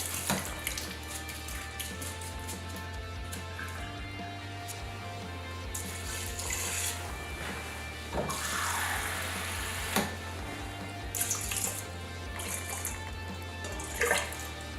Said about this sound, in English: We're just going to rinse it off for about 10 or 15 seconds until the water's not too cloudy that's coming out of it.